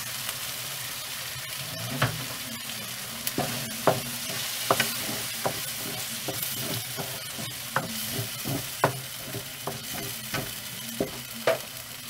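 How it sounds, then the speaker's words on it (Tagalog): Ketchup being stirred into spaghetti sauce in a frying pan, with repeated scraping stir strokes over a steady sizzle, close and moderately loud, no talking. "ilalagay na natin yung ketchup. Lagyan natin yung ketchup."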